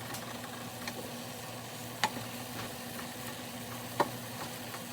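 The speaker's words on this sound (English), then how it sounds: "now checking back on my green beans, they look pretty done to me" Green beans cook in a pan with a steady, faint sizzle and a low hum. Light scrapes and a couple of sharp clinks come from the utensil stirring them.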